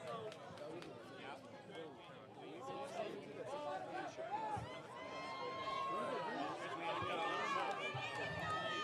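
Baseball crowd at a Texas high school playoff game in Conroe stirs after a home run over the left field wall, a busy, swelling babble of many voices that grows louder and more excited over several seconds.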